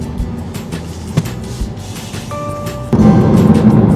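Interior rumble of a 2018 Ford EcoSport pulling out of a dealership parking lot, low road and engine noise with bumps and thuds, a short navigation chime, then a louder surge as it accelerates.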